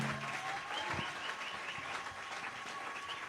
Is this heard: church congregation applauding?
yes